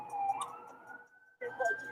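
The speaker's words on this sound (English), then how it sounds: "You guys hear the sirens?" Wailing emergency sirens sound from some distance, their pitch rising and falling, briefly cutting out before resuming.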